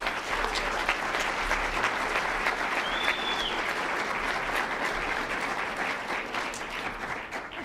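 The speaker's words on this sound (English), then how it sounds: "let's give them all a round of applause" Sustained audience applause at a Martin Luther King Jr. birthday celebration, steady dense clapping from a large crowd lasting throughout, fairly even in level with no voices standing out.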